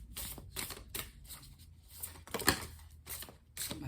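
A deck of tarot cards being shuffled in a messy way, with soft, irregular riffling and papery slapping bursts up close, and one sharper snap near the middle.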